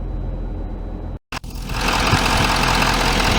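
A 2016 Chevrolet Silverado HD with the 6.6-liter Duramax diesel idles steadily up close. After a brief dropout, it settles into a louder, broader rumble that holds constant to the end.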